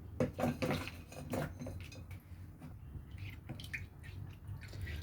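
100 grams of jaggery being stirred into 1 liter of water, a spoon clinking and scraping against a vessel in close, irregular taps with faint sloshing.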